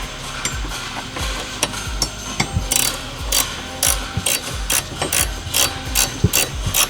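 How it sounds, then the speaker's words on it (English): A 14mm ratcheting wrench tightens a bolt on a Dodge/Chrysler air suspension install, giving rapid runs of close, crisp ratchet clicks in short bursts with brief pauses between strokes. "And then we'll get our 14mm ratcheting wrench. Hopefully we can get this sucker tight."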